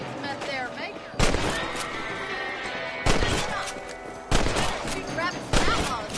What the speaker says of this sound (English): Shooting rabbits and outlaws, I see.